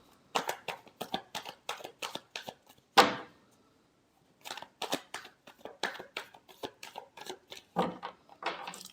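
Tarot cards being shuffled by hand, a run of quick crisp riffling and slapping strokes in close bursts, broken by one sharp snap and a short pause before more shuffling.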